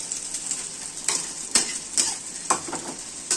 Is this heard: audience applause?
no